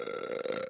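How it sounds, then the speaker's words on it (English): A man's short burp, made close by in a comedic film scene aboard a luxury yacht, loud and alone with no talk over it. "He burps in their face."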